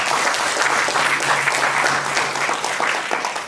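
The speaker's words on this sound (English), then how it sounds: "let's give Nigel a round of applause." An audience applauds at a volunteer appreciation event, a dense, even clapping that holds steady throughout and fades slightly at the end.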